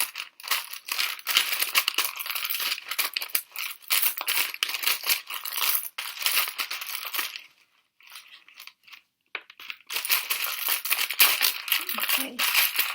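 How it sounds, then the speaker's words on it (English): Tarot cards being shuffled and jumbled by hand, a near, continuous papery crinkling and rustling with a brief pause in the middle before resuming. "Let me just shuffle. Let me just jumble these."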